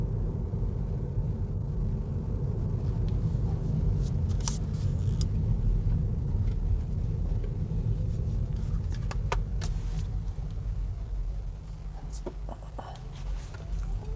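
Road noise inside the cabin of a 2022 Kia Niro EV with the 64 kWh battery while driving: a steady low rumble and tire roar, loud and continuous, with a few light clicks and faint rustles.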